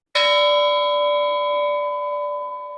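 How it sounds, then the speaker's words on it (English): A single bell struck as a sound cue during a stage rehearsal of Macbeth, ringing out clearly with a bright attack and a long, steady, slowly fading resonance, close and alone with no talking. "The bell invites me."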